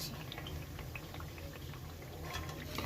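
Small brinjals fry in hot oil with a low bubbling sizzle that stays fairly quiet and even, rising a little toward the end, with no voices over it.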